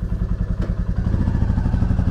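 A motorcycle idles close by at the start of a ride, a loud, low, pulsing engine thump with a steady even rhythm and no talk over it.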